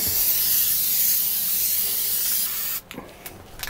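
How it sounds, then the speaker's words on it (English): Spray adhesive hisses steadily from a can inside an RV's fiberglass cap, a loud close continuous spray that stops abruptly, followed by a few soft knocks and rustles. "I'm not too excited about spraying this stuff in here"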